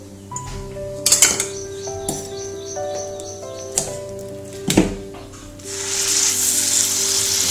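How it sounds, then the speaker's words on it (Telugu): A filling of chana dal and jaggery is dropped into ghee in a pan and fried for burelu. A few loud clattering knocks come first over a faint tonal chirping background, then a broad sizzle swells up near the end. "మొత్తం పూర్ణం వేసేసి మనం దాన్ని గట్టిగా ఫ్రై చేసి"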